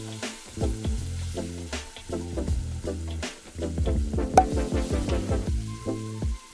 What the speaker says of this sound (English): Now I'm adding my marinated oxtail to the sugar.